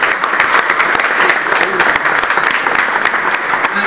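Audience applause greeting Formula 1 driver Anthony Davidson at a presentation, a steady burst of crowd clapping filling the whole short stretch.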